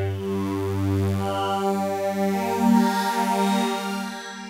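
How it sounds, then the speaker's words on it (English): Logic Pro ES2 synthesizer preset Aquaplane from the atmosphere category plays a sustained, shifting pad with rich harmonics, a low note giving way to a warbling, watery tone that holds steady and loud throughout. "something called aquaplane,"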